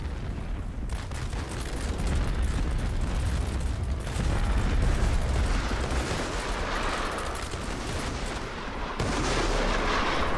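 Sustained artillery barrage in the Roblox game Conquest, a dense roll of overlapping booms and cannon blasts filling the whole stretch at a steady loud level, with a brief dip before the bombardment swells again.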